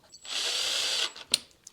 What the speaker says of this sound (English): Screw that down just till it's snug